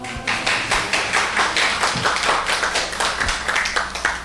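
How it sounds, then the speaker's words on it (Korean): A church audience claps for a pastor's wife as she stands to be introduced during a talk, giving a few seconds of moderate, fairly close clapping with audible individual hand claps and no talking. "뭐 굳이 박수까지."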